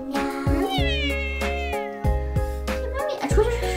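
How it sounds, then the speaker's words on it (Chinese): A pet cat meows repeatedly indoors near a bathroom door, its drawn-out cries clear and close, with someone talking to it between the calls and background music running underneath. "小猫咪，你叫什么呀？"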